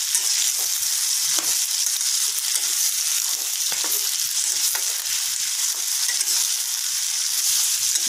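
Masala paste for a Tamil green masala curry frying in a pan, a steady close sizzle with soft crackles and occasional stirring scrapes running continuously throughout, no voices.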